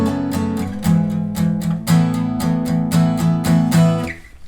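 Acoustic guitar playing a song's pre-chorus chords again, even repeated strums ringing close and loud, then a brief decay at the end, no talking.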